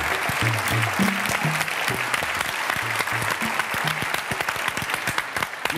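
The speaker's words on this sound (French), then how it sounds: "Je vous demande d'applaudir Michel Firmin, s'il vous plaît." Studio audience on a French game show set claps loudly and steadily while a musical jingle with low notes plays underneath.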